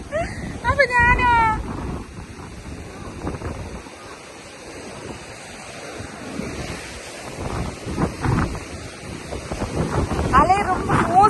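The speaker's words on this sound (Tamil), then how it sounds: "அலை ரொம்ப ஃபோர்ஸ்ஃபுல்லாக அடிக்குது." Strong ocean surf pounds Auroville beach in Pondicherry, a steady roar of breaking waves with wind buffeting the microphone, while people talk over it nearby.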